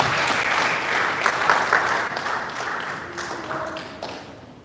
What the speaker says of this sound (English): Let us give up a round of applause as he comes up to the stage.